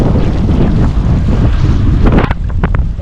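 Strong sea wind roars and buffets the microphone while wing foiling off Currumbin on the ocean, a loud continuous rush with water splashing beneath.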